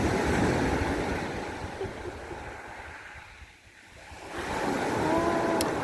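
Broad, steady surf noise from the Tyrrhenian Sea washes over an Italian beach, dipping briefly midway before swelling again, with wind rumbling across the microphone.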